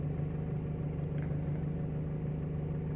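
A Timor DOHC car engine idling at steady RPM, a low, even hum with a constant drone and no rises, fairly quiet and alone.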